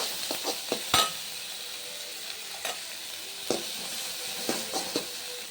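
Tomato, onion and curry leaves sautéing in oil, a steady sizzle broken by several sharp scraping stirs of a spoon against the pan, with no voices.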